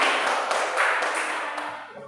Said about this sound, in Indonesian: Tepuk tangan buat Bu Yayu ya.